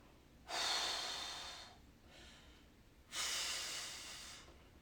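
Two long, forceful breaths during a stick mobility exercise in a workout class, each a broad airy rush lasting over a second, with a softer exhale between them; close and clear, with no talk.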